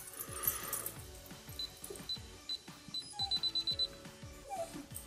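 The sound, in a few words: alarm going off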